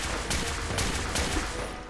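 Radium rifle shots in Fallout 4, several sharp cracks spaced roughly every half second, loud and close over a dense, noisy game background.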